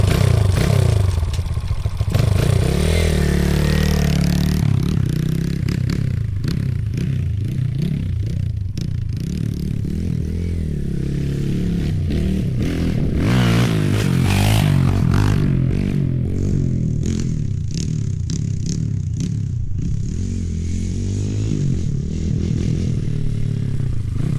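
Kawasaki KLX140RL dirt bike engine revving hard during wheelie attempts, a loud, continuous close engine drone with repeated blips and rising and falling pitch, plus some clattering.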